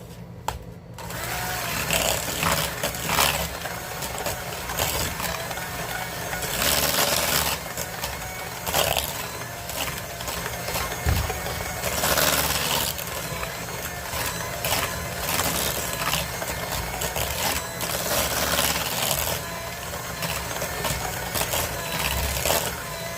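An electric hand mixer beats eggs for lemon curd with a steady, close motor whir that runs unbroken for the whole stretch, its pitch wavering slightly as the beaters move through the bowl.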